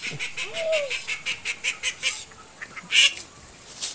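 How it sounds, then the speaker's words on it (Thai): Ducks at a small duck farm, a run of rhythmic honking quacks close by, fairly loud, followed by a few scattered calls. "นั่นจะเป็นฟาร์มเป็ดเล็กๆนะครับ"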